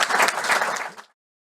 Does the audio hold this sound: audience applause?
yes